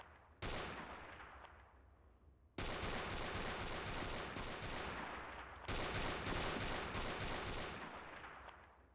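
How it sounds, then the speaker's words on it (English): AA-12 shotgun firing buckshot in a video game: three long bursts of rapid, loud automatic blasts, one after another, with no talking. "So the AA-12, this thing actually uses buckshot, which is really bizarre."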